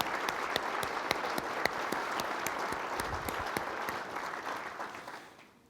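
An audience at an auto dealers' annual meeting and luncheon applauds steadily, a dense clapping sound that stays even for several seconds and then fades out.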